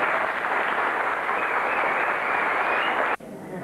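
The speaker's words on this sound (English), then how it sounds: "Let me deserve an extra wee round of applause" An audience applauds performing staff and kids with a continuous, even clapping roar that cuts off abruptly near the end.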